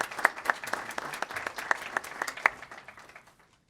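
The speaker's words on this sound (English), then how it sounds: "Let's give Ben Clymer's another round of applause." Sparse applause from a modest city council meeting audience, with a few loud, distinct claps standing out over lighter clapping that thins and fades within about three seconds.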